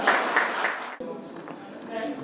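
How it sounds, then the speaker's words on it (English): Applause at the DL Awards 2019 as an award recipient walks up, clapping that is moderately loud at first and breaks off abruptly midway, followed by quieter room sound and faint voices. "A round of applause to him as he comes up"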